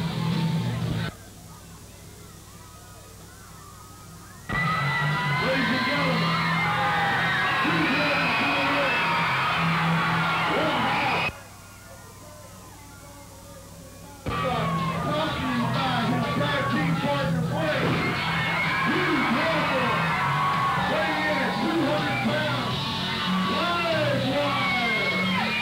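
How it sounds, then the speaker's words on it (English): A packed Texas pro wrestling crowd at a January 2000 event yelling, whooping and cheering in loud, dense waves that briefly drop out twice, with excited voices throughout. "The crowd's excited"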